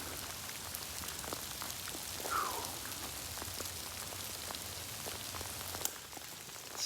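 Flooding creek channel in steady rain, a constant broadband wash of rushing water and pattering drops, moderately close and unbroken throughout.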